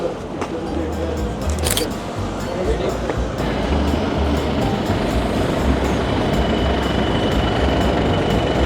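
A train rumbles steadily across Cannon Street Railway Bridge over the Thames in London, a continuous low roar with wind noise running throughout, close and fairly loud.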